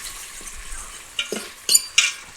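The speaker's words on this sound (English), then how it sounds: "saute down the pork jaw" Pork jowl renders in an Instant Pot on the sauté setting, a soft sizzle broken by a few sharp clinks and scrapes of a utensil against the pot.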